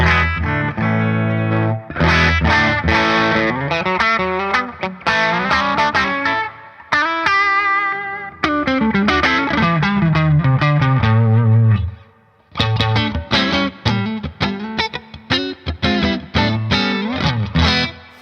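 An electric guitar plays strummed chords and single notes through a Boss OD-200 overdrive pedal on its clean setting, switching to the back pickup, with brief pauses between phrases and no talking.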